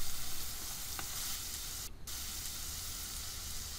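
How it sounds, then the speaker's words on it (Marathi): Crushed green chili, ginger and garlic sautéing in a pan make a steady close sizzle with faint stirring scrapes and a brief dip near the middle, no speech. "ह्यात ठेचलेली हिरवी मिरची, आले व लसूण घालूया। परतून घेऊया।"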